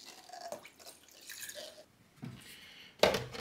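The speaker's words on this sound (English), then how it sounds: "you can just remove this and fill up with water" Water is poured into the reservoir of a Petoneer Fresco Ultra smart pet fountain: faint, scattered drips and trickles, then a brief, louder splash of water near the end.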